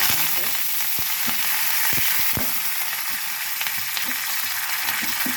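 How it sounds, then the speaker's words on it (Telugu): Tempering seeds sizzling and crackling in hot oil for chutney, a constant hiss with scattered sharp pops and a few clicks, no voices. "తాలింపు పెట్టేద్దాం తాలింపు గింజలు అయితే తీసుకున్నాను"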